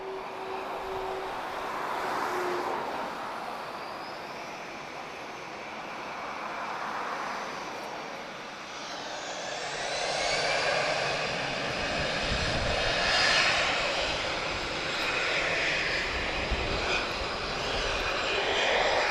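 A heavy Boeing 767-200 converted cargo freighter takes off at Lisbon Airport into a strong headwind, its jet engine roar swelling from a distant rumble to a loud, sustained broadband roar with no voices.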